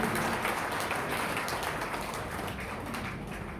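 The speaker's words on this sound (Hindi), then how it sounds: "आइएगा एक बार तालियों के साथ मुझे आदेशित करिए" An audience at a Hindi kavi sammelan poetry gathering gives a sustained round of applause. A dense, even patter of many hands that fades gently over a few seconds.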